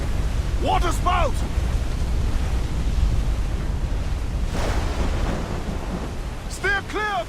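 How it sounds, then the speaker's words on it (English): A waterspout at sea in a pirate-era sailing game roars as a steady, heavy rush of wind and water, with storm-like rumble and shouting crew voices cutting in above it. "Water spout, man! Stay wide!"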